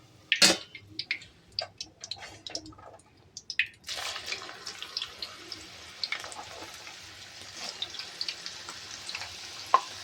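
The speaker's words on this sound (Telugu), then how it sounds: "కొన్ని కొన్ని చిన్నగా మీడియం ఫ్లేమ్లో వేపుకోవాలి. అన్నీ కూడా వేపుకోవాలండి." Okra fries in a pan over a medium flame, giving a soft, constant sizzle broken by a few sharp clatters and scraping stirs near the start, with faint crackles continuing quietly.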